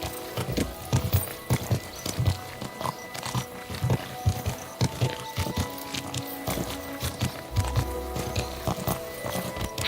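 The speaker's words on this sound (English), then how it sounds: "Easy, good horse." Horse hooves clip-clop at a steady walking pace in Kingdom Come Deliverance 2, close and moderately loud, with faint background game ambience.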